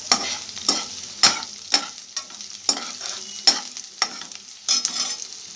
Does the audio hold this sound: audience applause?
no